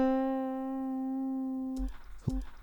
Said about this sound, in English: We can also do like a slower vibrato, where we make the triangles a little larger.